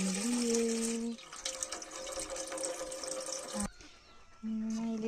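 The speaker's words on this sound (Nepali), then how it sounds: "मैले गुलाब जलको लागि चाहिँ भाँडामा पानी लिएँ" Water runs into a pot being filled at home to make rose water, a steady close splashing stream that pauses for a moment and then resumes, with an electric hum audible at the start and end.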